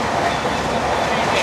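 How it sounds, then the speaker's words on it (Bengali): A passenger train running at high speed, heard from inside as a dense, steady rumbling roar with faint rhythmic rattle throughout. "ট্রেনের স্পিড দেখে কিন্তু মাথা খারাপ হয়ে যাচ্ছে, বিশাল স্পিডে ছুটছে"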